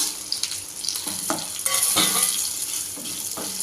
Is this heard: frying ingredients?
yes